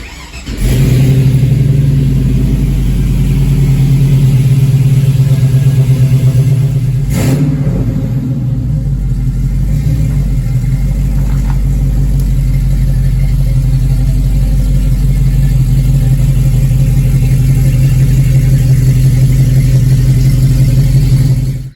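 A Pontiac 455 V8 stroked to 494 cubic inches fires up and settles into a loud, steady, deep-throated idle, close by with no talking, a brief blip of revs partway through.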